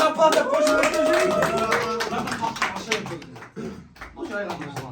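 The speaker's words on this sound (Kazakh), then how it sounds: "давайте шапалақтап қошеметтеп жүрейік" A group of people claps in applause, a busy patter of hand claps that rises and falls over a few seconds, mixed with voices in the background.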